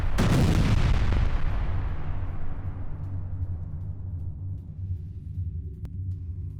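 An Israeli air strike in central Gaza near a shelter camp lands as a loud, close blast, with a sharp onset. A deep rumble follows and fades slowly, and no voices are heard.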